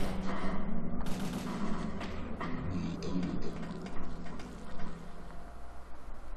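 Gunfire from a weapon in the video game Parasite Eve 2, with several shots and a dense, busy layer of game sound over a steady low hum, holding at moderate loudness throughout.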